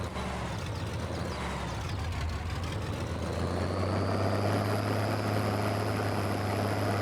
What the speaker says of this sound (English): we get a unique startup sound, and then a sound where it gets us up to our RPMs